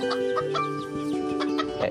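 Rescued chickens in a small backyard animal shelter in Tel Aviv, clucking and murmuring nearby in a quick, overlapping chatter of short calls, several birds at once.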